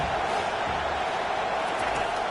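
Steady stadium crowd roar from a College Football 25 game, Nebraska versus Michigan, with fans trying to hold the opponent pinned deep in their own end; a dense, continuous wash of crowd noise without distinct peaks.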